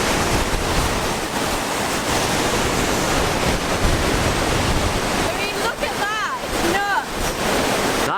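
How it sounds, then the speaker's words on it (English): A powerful waterfall in Norway, swollen by snowmelt and heavy rain, pours in a loud, continuous roaring rush from about fifty meters away. Brief voices cut in near the end. "The waterfalls here are so powerful, probably from the melting snow caps and the heavy rain we've had"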